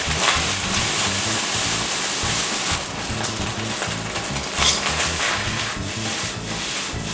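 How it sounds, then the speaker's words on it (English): Rice frying in a very hot pan on high heat for a Thai dish, a loud, steady, crackling sizzle that fills the whole clip, with brief scraping stirs and no talking. "once the rice is in, turn it up and get it absolutely ripping"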